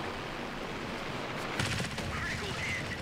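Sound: aircraft machine gun fire in World of Warplanes video game

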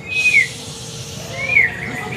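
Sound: young white-rumped shama (murai batu) singing

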